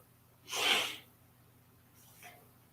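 A single sharp nasal sniff or snort, then a quieter second sniff after a pause, close and otherwise quiet.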